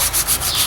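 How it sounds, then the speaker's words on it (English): Sandpaper rubs steadily over an old wooden axe handle, a close, loud, rhythmic scratching hiss with no talking. "So I just sit here on my bucket and sand it for a few minutes."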